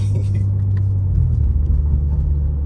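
A 2023 BMW G80 M3 Competition xDrive engine roars loudly and steadily, its low-pitched drone climbing slightly as the car accelerates hard, with continuous road rumble underneath.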